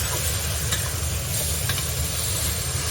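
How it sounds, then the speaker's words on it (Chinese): Shiitake mushrooms stir-fried in a wok give a steady, close sizzle with soft scraping from stirring, running evenly and without pause. "稍微炒一下，把这蘑菇给它炒软了。"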